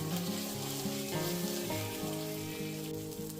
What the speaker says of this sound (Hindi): बस इसको थोड़ा सा गोल्डन ब्राउन करूँगी, उसके बाद में बाकी मसाले डालूँगी।